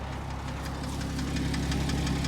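A Porsche Cayman S horizontally opposed engine idles with a fast, steady ticking and tapping in its running noise, heard close up and fairly loud.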